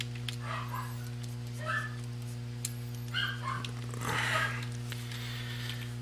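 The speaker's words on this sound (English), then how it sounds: "I'm really sorry about the dogs, seriously. They're going crazy about something." Several dogs bark and yip excitedly in short bursts from another room, moderately distant, over a steady electrical hum.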